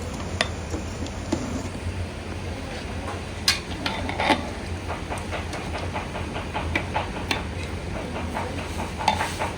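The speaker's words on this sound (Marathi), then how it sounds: "तेल झाले. त्याच्यामध्ये बटाटे टाकते." Potatoes dropped into hot oil in a home kitchen while cooking an Agri-style chavli, potato and brinjal curry, giving a steady close sizzle with scattered crackles and clinks from stirring, no voices.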